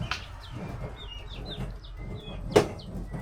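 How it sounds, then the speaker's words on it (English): Chickens cluck and chirp at a house construction site in the Philippines, with several short calls over steady background noise and one louder squawk near the end. "Was there a chicken in there?"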